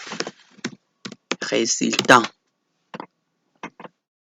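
Short bursts of clicky keystrokes on a computer keyboard while typing Python code, tapping in scattered clusters between stretches of someone speaking French nearby.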